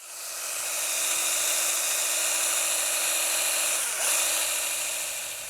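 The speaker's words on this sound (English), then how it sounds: "All right, I got that one drilled out," A high-pitched drill whines steadily for several seconds, close and loud, drilling out a stripped screw on a 1972 Honda CB450 motorcycle, with a brief dip in pitch as it bites before spinning back up.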